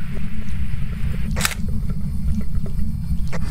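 A single sharp camera shutter click stands out over a constant low rumbling hum.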